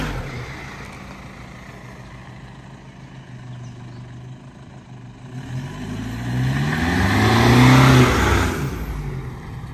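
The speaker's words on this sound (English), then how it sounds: "I'll just tap the accelerator slightly." A 4x4's engine, fitted with a throttle controller, idles and then rises into a short loud rev that peaks and falls back, heard close up with no talking.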